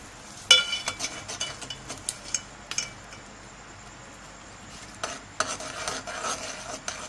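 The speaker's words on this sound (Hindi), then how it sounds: "अब अच्छे से हम इसको मिक्स कर लेंगे" A spoon stirs boiling sugar syrup just mixed with glucose syrup in a metal pan, giving repeated clinks and scrapes against the pot over a faint simmer, with a quieter pause mid-way; no voices.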